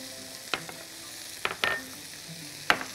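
Garlic fries in a little oil in a wok, giving a soft background sizzle broken by a few sharp scraping stir strokes, fairly quiet and with no talking.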